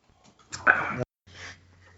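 A dog whimpers indoors in two brief, soft, high-pitched bursts with a pause between them; it is fairly close but quiet, with no talk over it.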